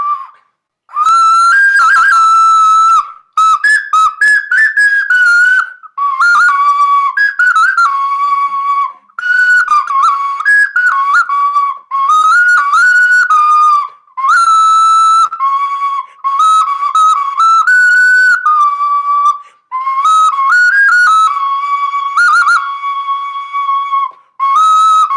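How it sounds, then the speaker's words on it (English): A small clay flute plays a breathy, high melody in short phrases with brief pauses, bright and close, no voices. "This is like a little flute, but it's made out of clay."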